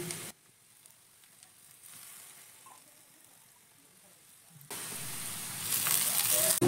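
Grated, squeezed-out potato goes into onions frying in a pan: a quiet low sizzle, then a sudden louder burst of sizzling partway through that keeps building toward the end.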